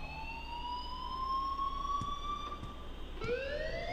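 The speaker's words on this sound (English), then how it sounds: "please turn off that alarm since that's your job" A school alarm in the video game Life Is Strange rings steadily and loudly on its own, its tone gliding slowly upward, with a brief break near the end before it starts again.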